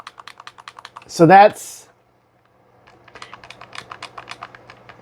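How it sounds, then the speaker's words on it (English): Loud, rapid clicking from the L and R shoulder buttons on a Datafrog RG36 handheld game console, pressed in quick repeated bursts before and after a short spoken word. "There's just a huge, loud, very clicky L and R button on the back."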